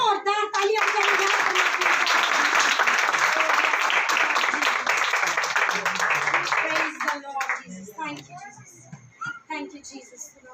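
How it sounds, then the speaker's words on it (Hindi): Loud, sustained applause from a women's prayer meeting at a House of Prayer, dense clapping for several seconds before fading into scattered claps and voices. "होली स्पिरिट के लिए जोरदार तालियां बजाएंगे"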